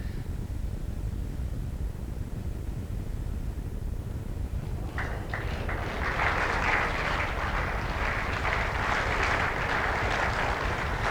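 Crowd applauding at an outdoor lawn bowls match, Australia vs Scotland Super Series at Tweed Heads, the clapping swelling in about halfway through over a steady low background hiss, moderately distant.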